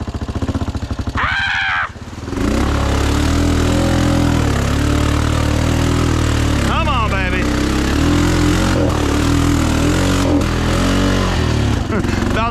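Lifted Honda Foreman 500 ATV engine revving hard and steadily against the rev limiter, loud and close, with brief voices and shouts over the buzzing drone after a short quieter start.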